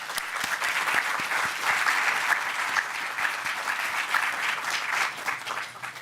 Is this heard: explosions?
no